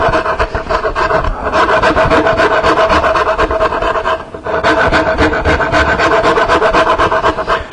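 A Nicholson No. 49 cabinet maker's rasp works across wood in a woodworking shop, loud close rhythmic scraping strokes running nearly continuously with one brief pause midway.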